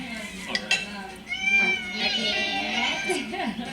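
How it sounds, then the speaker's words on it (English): Cats meow repeatedly in a restaurant in Sri Lanka, several overlapping drawn-out cries rising and falling close by, mixed with clinking cutlery and dishes. "A symphony of cats."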